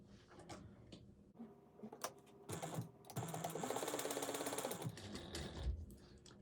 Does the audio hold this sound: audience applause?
no